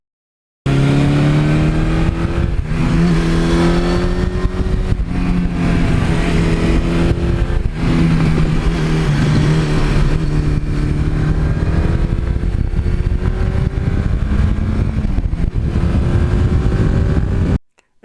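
A 1982 Suzuki GS1100E motorcycle engine with 79,000 miles runs loud and steady up close, its revs rising and falling in smooth swells throughout, with no talk.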